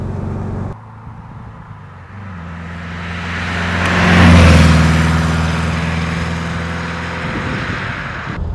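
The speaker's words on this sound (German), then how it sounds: "der Wagen hat ja auch tatsächlich einen tollen Sound" A 1963 Porsche 356 C Cabriolet engine while driving: a steady, loud drone that swells to a peak midway as the car accelerates, then eases back into a sustained hum, with no talking.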